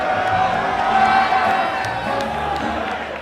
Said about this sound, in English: Huge cheer from this packed crowd at London Scala